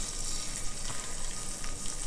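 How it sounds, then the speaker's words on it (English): Liver sizzles and crackles steadily in a hot frying pan, a soft, constant hiss with small pops, fairly quiet and close. "you'll know it's hot enough when you get that sizzling."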